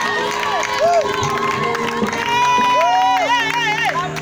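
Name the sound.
crowd cheering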